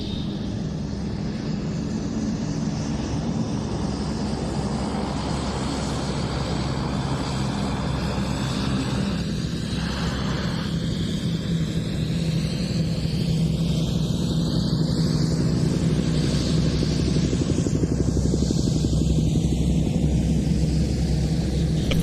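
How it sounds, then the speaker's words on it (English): OV-10 Bronco turboprop making a tactical short-field landing at an airshow practice, steady loud propeller and engine roar throughout with a rising whine sweeping through partway, no voices. "The Bronco now making use of its short field landing capabilities to conduct a tactical landing next to the stricken An-2"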